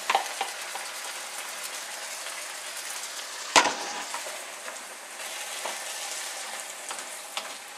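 Marinara sauce heats and sizzles in a pan on medium-high, a steady close crackle with a sharp clink of a utensil partway through and a few light taps.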